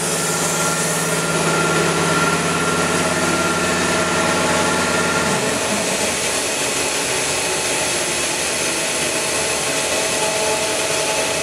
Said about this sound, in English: Sorry about the air compressor running in the background, but that's what drives the uh, little turbocharger.